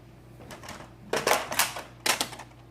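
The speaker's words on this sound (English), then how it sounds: "let's go ahead and cut the top off." Cutting the top off a handmade paper washi wallet, crisp rapid snipping and crinkling in three short bursts, close and fairly loud with no talk.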